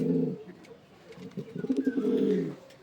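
Black Lahori pigeons of a European-ring bloodline coo nearby, low throaty rolling calls in two soft bursts, with faint background noise.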